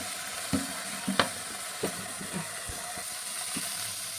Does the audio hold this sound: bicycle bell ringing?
no